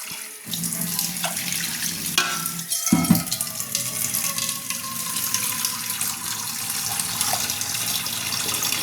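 Water runs steadily from a tap into a cooking pot holding turmeric powder for homemade dog food, a close, continuous gush with a brief break near the start and no talking.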